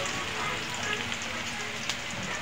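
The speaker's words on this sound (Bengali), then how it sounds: "পেঁয়াজটা ভালো করে আমি একটু ভেজে নেব" Chopped onion frying in hot oil in a home kitchen for a bottle gourd and prawn curry, giving a steady, moderately quiet sizzle with small pops throughout.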